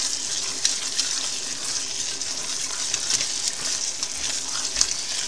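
Kibbeh, spiced Ethiopian clarified butter, melting into a stirred pot of doro wet, giving a steady close hiss and sizzle with faint scraping of the spoon and no talk.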